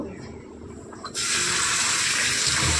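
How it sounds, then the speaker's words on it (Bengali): Leafy greens rinsed under a kitchen tap: quiet handling at first, then the faucet turns on and water gushes steadily and loudly into the sink to the end. "শাকটা ভালো করে ধুয়ে নেব"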